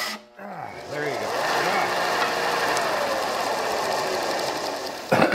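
A Vevor disc and belt sanding machine grinds a wooden stick, a steady loud abrasive whir with a wavering pitch held for about five seconds after a brief start, then a sharp change near the end.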